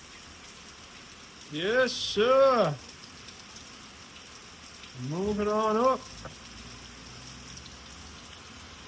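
Steady rain patters throughout on an outdoor setting in Jamaica, a soft continuous hiss beneath a man's brief spoken words.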